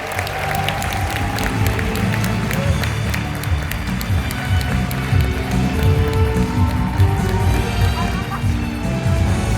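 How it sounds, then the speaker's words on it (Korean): Steady, dense audience applause fills a corporate business event hall as a guest speaker is welcomed, continuous and fairly loud without a break. "인터내셔널 앰바서더 문기명 사장님을 큰 한번 박수로 모시겠습니다"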